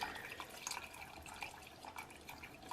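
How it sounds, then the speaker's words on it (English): Water pours into a saucepan of Irish beef stew, a steady, faint trickling and splashing with small drips, continuous and without voices. "now I'm just going to cover it with water"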